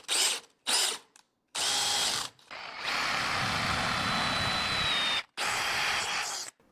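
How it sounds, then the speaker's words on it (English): A big angle grinder smooths metal on an e-bike build, running in short loud bursts followed by one long steady whine with pauses between, close up and without talk. "Try to smooth that out with the big grinder"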